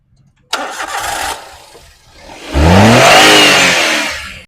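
A well-maintained low-budget car's engine cranks, catches and settles into a steady run, preceded by a brief starter whir and a short lull, then a rising roar close by.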